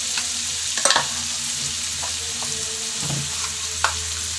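Snails and chana dal with green chillies fry in a pan for a curry, giving a constant low sizzle. A few scraping stirs and light clinks of the spoon sound close by.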